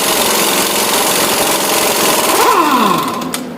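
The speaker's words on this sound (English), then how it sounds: "you should be able to remove it with an impact gun" Pneumatic impact gun working on the 36 mm axle nut of a 2009 Ram 1500 4x4 front hub, a loud steady mechanical whir that runs continuously before tapering off near the end.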